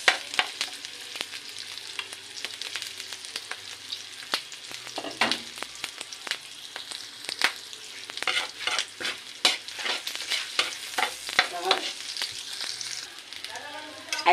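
Garlic and onion sautéing in a pan, a bright crackling sizzle throughout with frequent quick spatula scrapes and stirs, close and fairly loud, no voices.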